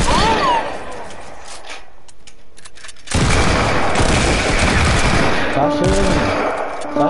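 Dense, rapid gunfire rattles loudly and continuously as several people shoot at once, briefly thinning before surging back, with voices speaking near the start and end.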